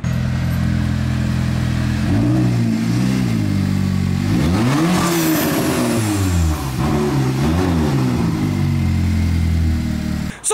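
A loud, heavy Humvee engine runs close by, revving up and down in several surges over a constant low rumble.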